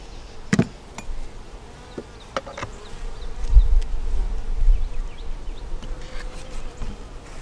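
Honey bees buzz around a hive opened for inspection after a month, a steady low hum with occasional sharp knocks and taps from handling hive parts, no talking.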